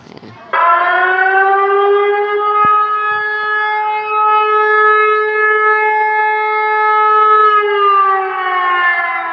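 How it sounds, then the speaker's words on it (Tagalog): A loud, steady wailing storm warning siren holds one long sustained tone after a short rise, close and continuous with almost nothing else audible. "Napakalakas guys ng tunog ng sirena."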